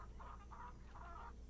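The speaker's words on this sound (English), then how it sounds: "I hear some chickens clucking away." Three short, soft hen clucks in quick succession over a steady low hum, from chickens at a ranch in a Nancy Drew video game.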